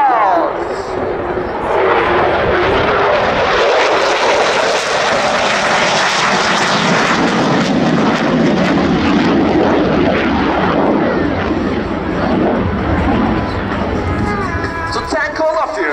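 A Turkish Air Force F-16 fighter jet performs a solo flying display at the RIAT 2016 airshow, its loud, continuous engine roar filling the whole clip and swelling then easing slightly as it passes.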